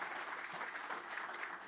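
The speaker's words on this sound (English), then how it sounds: "You can give yourself applause." Audience at a clean energy conference giving itself applause, a dense, even roar of clapping hands without distinct individual claps, brief and steady throughout.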